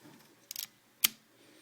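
Cocking the mechanical shutter of an Epson RD-1s digital rangefinder camera gives a quick, close ratcheting burst followed by one sharp, crisp click, in a quiet room.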